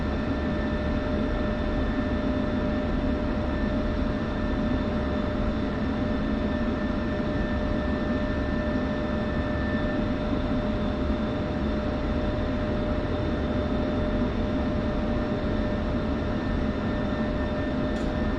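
Steady, loud F-16C jet engine whine and roar while taxiing in the DCS flight simulator, a constant drone with a high tonal note that holds unchanged throughout, no voices.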